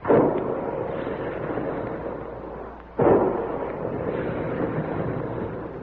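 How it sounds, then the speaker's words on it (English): Big guns firing as a radio sound effect: a continuous low rumbling roar of heavy artillery, broken by one sharp, loud blast midway before the rumble carries on. "Big guns. Hear them?"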